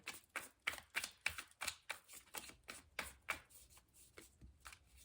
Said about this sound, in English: I'm gonna shuffle this one first.